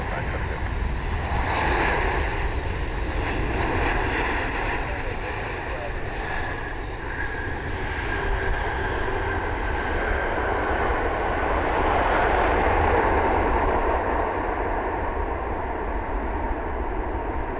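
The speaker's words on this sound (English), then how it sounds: "Should get a beautiful golden hour 747 landing for you today" A Dubai Air Wing royal Boeing 747 landing at Cleveland Hopkins airport at golden hour, its engines a steady, broad roar throughout the clip.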